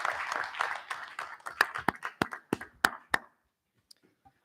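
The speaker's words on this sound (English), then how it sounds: "So one last round of applause for all our parents" An audience at a board of education meeting applauds parents, student athletes and administrators, a burst of many hands clapping that thins into scattered claps before stopping.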